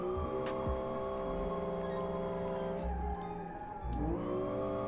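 A high-revving engine in the BeamNG driving game, held near 8,000 RPM with steady buzzing harmonics that dip briefly as revs fall and climb again, with faint ticking alongside.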